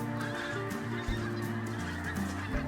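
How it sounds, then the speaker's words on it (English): A flock of pink-footed geese honking together, many overlapping calls in a continuous noisy chorus, fairly close. "this large flock of pink-footed geese flew in."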